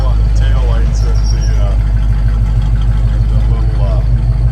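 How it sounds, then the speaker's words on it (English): A 1953 Chevrolet 3100 pickup runs with a loud, steady exhaust drone and a low, even idle pulse, with voices faintly overlapping the engine. "Good sounding exhaust."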